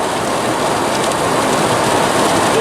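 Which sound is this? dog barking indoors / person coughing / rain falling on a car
rain falling on a car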